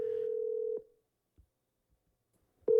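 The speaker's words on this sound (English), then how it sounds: "Okay, it's ringing." Ringback tone of an outgoing telephone call: a steady electronic tone lasting just under a second, a silent pause of about two seconds, then the tone starting again, clear and close.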